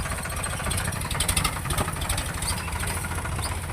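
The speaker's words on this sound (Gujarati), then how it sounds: "ટ્રેક્ટર હાલે છે જોઈ શકો." A tractor engine runs steadily at a rural work site, with a continuous low, throbbing rumble and a constant mechanical rattle, close and loud, with no talking.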